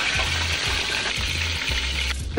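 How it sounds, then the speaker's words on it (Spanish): Seasoned fish dusted with starch frying in hot oil, a steady loud sizzle and crackle throughout, close up with no talking and a low rhythmic thump beneath. "Lo llevamos a freír."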